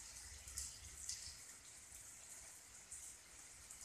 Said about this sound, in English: It's raining. Yeah, I know. It's raining hard,